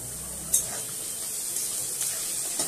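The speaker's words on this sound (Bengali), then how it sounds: "গাজর, পেঁয়াজ, কাঁচা লঙ্কা, রসুন কুচি একসাথে ভাজা করে নিলাম।" Carrots, onions, green chillies and chopped garlic frying together in a pan, a steady soft sizzle with a few brief stirring clatters.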